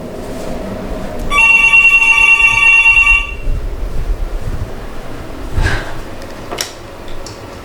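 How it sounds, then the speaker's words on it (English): A mobile phone rings in a resort room restroom in Montego Bay, sounding as a bright, steady electronic tone that lasts about two seconds over a wind-like background hiss. "My phone ringing."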